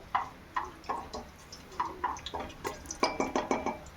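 Whole spices, cloves, cardamom pods and bay leaf, stirred in hot oil and ghee in a pressure cooker pot for chicken biryani, giving a string of sharp metallic scrapes and clinks in an irregular rhythm, close and fairly quiet, with no talk.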